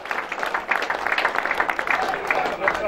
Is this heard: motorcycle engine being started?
no